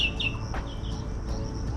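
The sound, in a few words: bird singing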